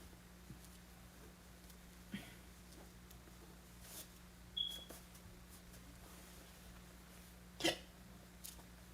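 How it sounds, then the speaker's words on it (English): Several soft, isolated hiccups from a person in a quiet indoor room, spaced a few seconds apart over a faint steady hum, with no talking. "I get hiccups now."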